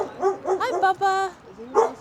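A dog barks and yips a few times at close range in a home, with people talking over and between the short barks.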